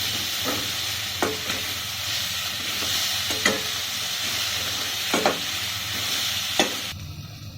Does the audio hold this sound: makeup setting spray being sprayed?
no